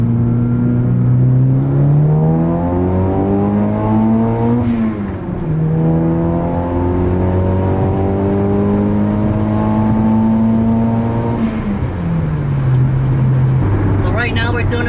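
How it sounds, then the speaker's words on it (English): From inside the cabin, a car accelerates hard in second gear, the engine tone climbing steadily in pitch, easing, then climbing again, loud and close, with a brief shift near the end. "Put it in second and give it a hit."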